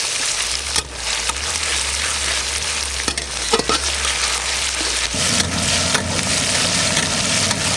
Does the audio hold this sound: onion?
yes